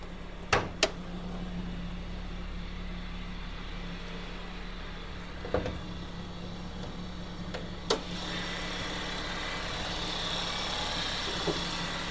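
A 2001 Honda City's engine runs at idle with a steady low hum, punctuated by a few sharp clicks and knocks nearby, and no voices.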